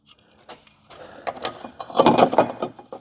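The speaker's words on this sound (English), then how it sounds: "when I'm tightening these bolts down" Bolts are tightened on an aluminum rear fender flare of a Jeep Wrangler JL, giving quiet scattered clicks and metallic ratcheting that builds into a louder burst of rapid clicking near the end.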